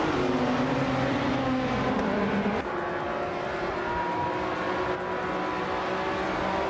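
Race cars roar off the line in a racing video game at the Österreichring Vintage No Chicane track, a 2016 Maserati GranTurismo MC among them. A dense, loud engine drone runs throughout, with one revving pitch sliding down partway before the pack holds steady.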